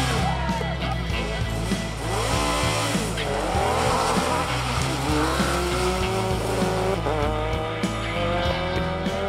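A little Citroen rally car races on tarmac at Targa New Zealand 2015, its engine revving up and down through gear changes with tire squeal, loud and close for several seconds.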